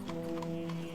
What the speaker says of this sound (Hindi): राजकुमारी और दासी दोनों अपने अपने घोड़े पर चढ़ी और उन्होंने महल छोड़ा